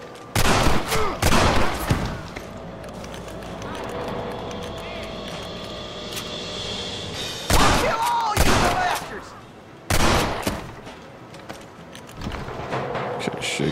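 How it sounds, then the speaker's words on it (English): Bursts of gunfire and volleys of shots in the Western video game Red Dead Redemption, loud clustered salvos at the start and again near the middle and end, with game ambience and voices in between. "Let's shoot the hell out of these."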